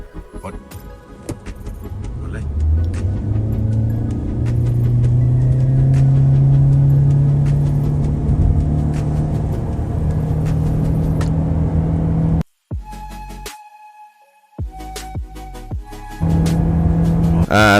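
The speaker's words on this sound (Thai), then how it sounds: "การทดสอบความเร็วก็คือ จากหยุดหยุดนิ่งศูนย์ถึง100กิโลเมตรเพื่อทดสอบในเรื่องของสมรรถนะและพละกำลังของเครื่องยนต์ครับ" A Toyota Yaris Cross accelerates from a standstill to 100 km/h, its engine rising in a loud sustained drone from inside the cabin, then cutting out abruptly before resuming with faint cabin noises.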